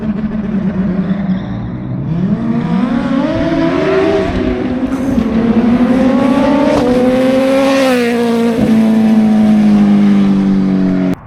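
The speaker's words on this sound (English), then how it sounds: "he smoked the fucking tire damn near" A Suzuki Hayabusa motorcycle in a racing setting does a burnout, its engine roaring loud and steady as the revs climb and hold, with a rising harmonic whine and a raw, sustained edge throughout.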